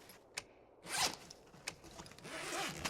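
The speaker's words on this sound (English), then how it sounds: "All the different zip noises." Several quick zipper pulls from the survival game The Long Dark, short rasping zips spaced apart, one longer and louder around the middle, fairly faint and alone without talk.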